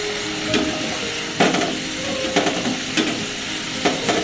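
Vegetable pasta is stirred and mixed in a hot pan, a steady sizzle broken by several scraping strokes of a utensil against the pan.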